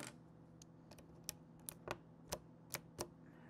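Sharp, clicky keystrokes from a mechanical keyboard with Cherry MX Green switches and metal keycaps land one at a time at an uneven pace, close up and crisp against a quiet background hum.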